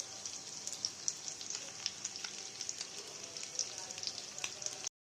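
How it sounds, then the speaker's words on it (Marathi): Egg frying in hot oil for a half fry, a steady bright sizzle with small crackling pops throughout, faint and close, without speech. "कारण की खूप तेल उडतं हाफ फ्रायमध्ये"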